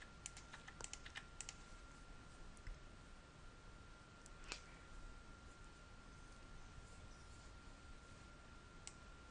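Someone types on a computer keyboard while entering a new user account, giving faint quick key clicks in short bursts with gaps and a few sharper taps.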